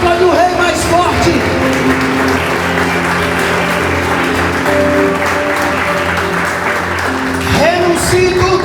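Church congregation applauding during a worship service, dense continuous clapping filling the room over music, with voices singing or calling out on top.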